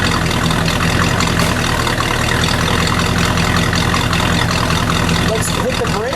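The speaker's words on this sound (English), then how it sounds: "Just let it idle for a second." A 1970 AMC Rebel Machine V8 with its factory-style muffler idles cold, a steady low rumble running the whole time, with voices talking over it.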